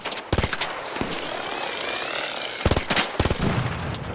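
FAMAS rifle gunfire in the video game ARC Raiders comes as several short rapid bursts of automatic shots, loud and close, separated by gaps filled with a whooshing, droning background.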